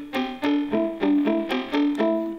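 Electric guitar run through a Line 6 Helix patch with the expression pedal fully up, giving an electronic, techno-like tone: five rhythmic, sharply attacked notes or chords, each sustaining briefly before the next, played alone.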